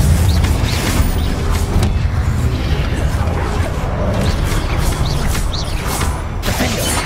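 Confringo fire spell blasts burst in the Hogwarts Legacy video game, dense booming impacts over a loud continuous roar of combat noise with no clear pauses.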